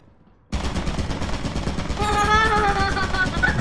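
An automated turret in the video game Lethal Company opening fire suddenly after near silence, a loud, rapid, sustained stream of shots with a rising mechanical whine layered in partway through.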